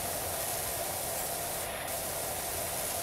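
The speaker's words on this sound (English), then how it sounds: "Get a little bit of a wider spray here." Pressure washer fitted with a 25-degree nozzle in Powerwash Simulator: a constant, loud, broadband hissing spray that holds even and unbroken throughout, alone without voices.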